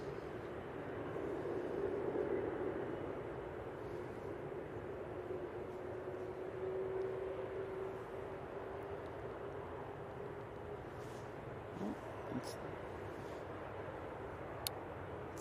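A Lufthansa airliner comes in to land at Manchester Airport, a steady distant roar of jet engines rumbling throughout with a broad low drone that swells slightly and holds, no voices over it.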